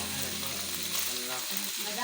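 Potatoes frying in a hot pan with meat, a dense continuous sizzle with some stirring, loud and close throughout.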